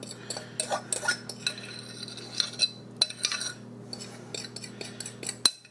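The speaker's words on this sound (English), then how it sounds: "we're going to mix all this together like crazy" A sweet potato pie filling is mixed vigorously in a bowl, with quick clinks and scrapes of a metal utensil against the bowl over a low steady hum, with no talking.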